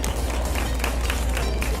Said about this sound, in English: give me a warm applause for Fern Olivia